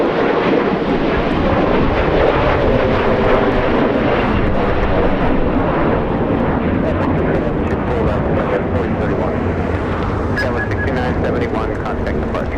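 Airliner taking off from LAX, bound for San Francisco, with a loud, steady broadband engine roar that holds throughout; voices talk over it.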